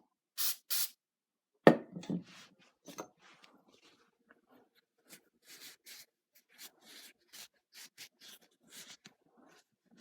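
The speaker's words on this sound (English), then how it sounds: "I'm just gonna wipe it off real quick and spray it with brake clean" Two short hisses of aerosol brake cleaner sprayed on a part near the start, then scattered rubbing and wiping noises, with quieter spray bursts later on.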